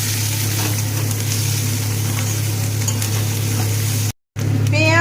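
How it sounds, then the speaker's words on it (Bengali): Onion, garlic and ginger paste frying with spices in a pan for a lemon katla fish kalia, a steady close sizzle with faint stirring, broken by a brief cut-out near the end. "পেঁয়াজ রসুন ভাজা ভাজা হয়ে গিয়েছে, একই সাথে দিয়ে দেব আদা বাটা।"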